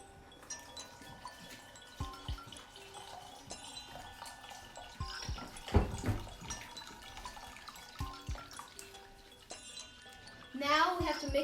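Cold water poured into a bowl of Jello mix in a home kitchen, a soft trickling and splashing with a few clinks, faint and close, with brief talking in the background.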